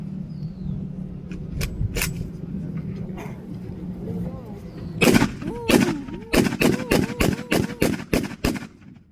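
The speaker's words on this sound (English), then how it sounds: "Walking fire was the idea that machine gun or full automatic fire would accompany the squad as they attacked the enemy" A Browning M1918 automatic rifle fires full-auto walking fire on a range, rapid bursts of sharp reports growing denser toward the end, heard under someone talking throughout.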